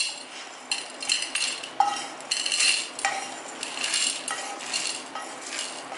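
A spoon scrapes and clinks against a metal pan as dry-roasted biryani spices and chillies are tipped onto a plate. The close, irregular scrapes and taps come in short bursts with no talking.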